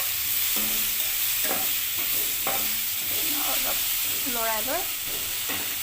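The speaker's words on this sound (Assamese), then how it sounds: "শাকটো দি অলপমান এনেকৈ লৰাই লৈ" Greens being stirred in a hot pan, a constant loud sizzle with scraping strokes of a spatula repeating across the pan, and a voice briefly audible beneath.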